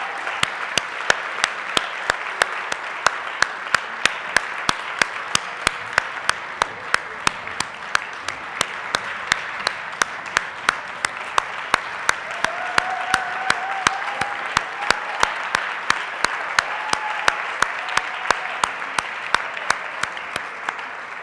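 Audience applause for Prof. Francois Strydom at a university learning and teaching awards event, steady dense clapping lasting throughout with sharp regular claps standing out near the front.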